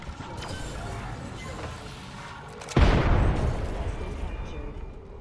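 A frag grenade goes off in an Apex Legends match: one sudden loud boom that decays slowly, rising over a steady bed of game noise and chatter.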